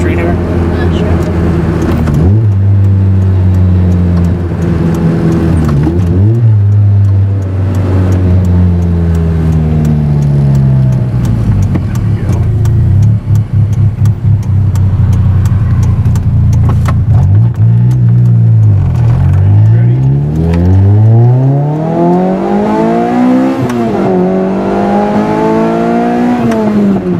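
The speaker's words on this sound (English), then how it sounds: "So do you want to do a quick 0 to 60 sprint up the street here?" A lightweight Lotus sports car sprinting from 0 to 60 on a street, heard from inside as the engine climbs hard through repeated rising sweeps with gear changes between, loud and continuous with people talking over it.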